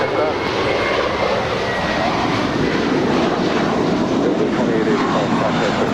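An airliner taking off on runway 25 right at Los Angeles LAX airport, heard as a loud, steady engine roar that holds throughout with radio chatter over it.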